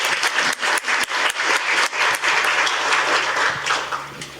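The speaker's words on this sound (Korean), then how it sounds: "박수로 부탁드리겠습니다." Audience applause welcoming the moderator of a panel discussion on won stablecoins and financial infrastructure: a crowd claps in a fast, dense patter, loud and continuous throughout.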